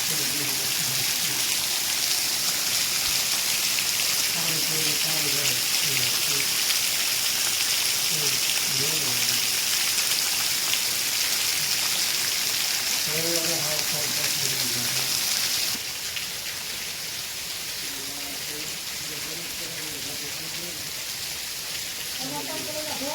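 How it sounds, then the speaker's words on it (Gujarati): Heavy rain pours steadily as a dense, loud hiss throughout, with voices talking intermittently beneath it; the downpour's roar drops slightly in intensity partway through but continues. "અત્યારે અમારે જોરદાર વરસાદ પડી રહ્યો"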